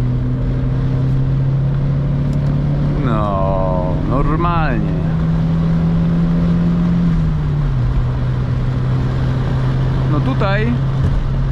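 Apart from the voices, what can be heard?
1992 Volvo 940 2.3 engine accelerating on autobahn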